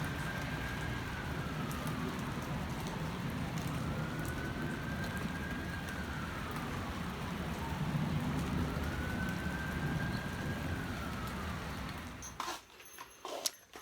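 Steady rain hisses down on a cold, raw day, with a faint siren wailing in slow rising and falling sweeps in the distance. The rain cuts off into a few scattered taps at the end.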